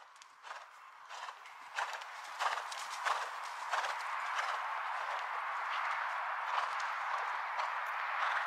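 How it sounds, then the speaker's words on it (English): A horse's hooves clip-clopping in a steady canter rhythm during a jumping lesson, faint and somewhat distant over a hissy outdoor background. "Keep that contact. Keep that at. Keep that canter. It's a good canter"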